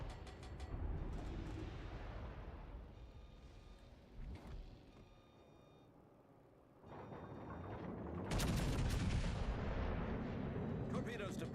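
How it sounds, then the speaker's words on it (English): Naval gunfire in World of Warships Legends, the British battleship Conqueror firing armor-piercing shells: heavy booming blasts and rumbling, with a loud surge toward the end over game ambience, someone talking beneath. "Conqueror is shooting AP at me?"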